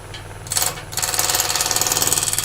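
A wood lathe spins up and runs as a spindle roughing gouge is readied, giving a close, steady whirring hum with a fast, regular pulsing and a brief burst of higher rasping noise near the start.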